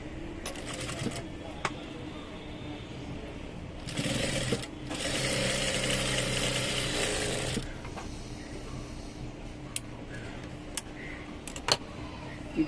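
A sewing machine stitches a garment in one loud, steady whirring burst of about three and a half seconds. Quieter handling clicks and taps come before and after it, and a voice can be heard faintly in the background.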